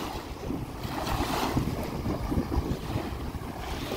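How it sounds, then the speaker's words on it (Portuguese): Cold wind gusts steadily across the shore of Araruama lagoon, a broad rushing hiss with a low rumble of water underneath and no voices. "Tá um vento geladinho."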